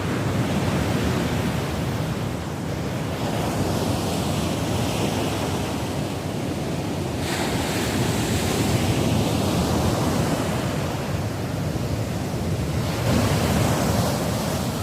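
Heavy sea waves surge and crash along an eroding shoreline at Kallam Valappu, Chembirikka, a loud continuous roar of surf mixed with wind buffeting, with no voices.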